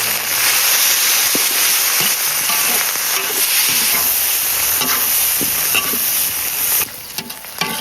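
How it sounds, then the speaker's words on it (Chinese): Ginger, garlic, pickled chilies, small red chilies and dried chilies with spices stir-fried in a hot wok for a spicy cow-trotter stew, giving a loud, steady sizzle with scraping stirs throughout and no talk. "现在来炒个汤料，姜蒜、泡椒、小米椒、干辣椒、白芷、豆蔻、香叶"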